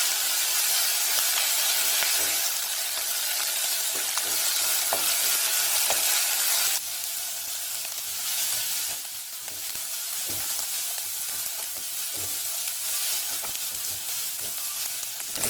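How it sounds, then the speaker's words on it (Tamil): Ingredients for village-style thuthuvalai (Solanum trilobatum) rasam sauté in hot oil, giving a steady loud sizzle with faint scraping ticks of stirring throughout and no voices. "நல்லா எண்ணெயிலே வதக்கி விடணும்"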